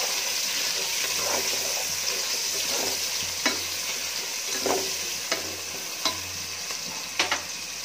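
Onions fry in hot oil in a nonstick pan, a steady close sizzle with occasional sharp clinks and scrapes of a spoon stirring, and no talking.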